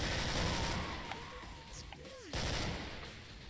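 Gunfire in Killing Floor, a video game, on a swamp map: a few sharp, heavy shots at the start and again near the end, with creature noises and game effects in between, all fairly faint.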